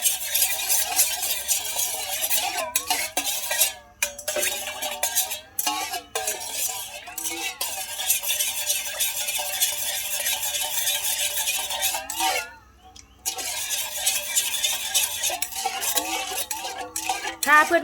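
Spicy Thai salad dressing stirred in a pot, a spoon scraping and clinking steadily against metal in a continuous rhythmic pattern, close and clear, with brief pauses and no talk.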